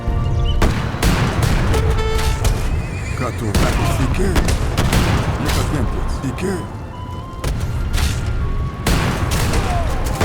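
Dense, rapid musket volleys and booming cannon fire crackle continuously on an Age of Empires 3 battlefield, loud and relentless, with voices talking over the gunfire.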